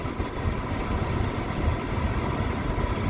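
A 1999 Toyota Corolla engine idles steadily with a low, rough rumble and a constant broadband hum, close and continuous with no talk.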